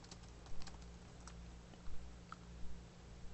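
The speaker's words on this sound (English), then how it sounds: "so let me type it again." Fingers tap on a computer keyboard, typing a chat message in quick irregular bursts of clicks, close but quiet over a low steady hum.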